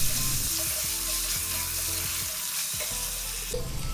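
Green peas and garlic fry loudly in a pan, a continuous bright hiss that stays close and even throughout, with no voices.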